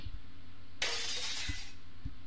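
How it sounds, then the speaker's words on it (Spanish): A window shatters in a horror video game, a single bright burst of breaking glass lasting under a second, loud against a low ambient hum with a couple of soft thuds afterward. "O sea, que escuché una ventana romperse."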